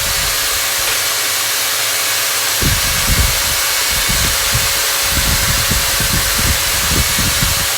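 Brake pads on a car's stuck brake caliper are cleaned with a continuous, loud, close spraying hiss, while low knocks and scuffs of handling begin partway through.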